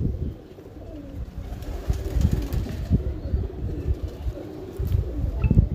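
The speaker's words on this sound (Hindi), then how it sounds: "ये मेन कबूतरों में से एक कबूतर है" Champion pigeons in Multan coo in low, throaty bursts close by, with occasional soft rustles and wing flutters in the background.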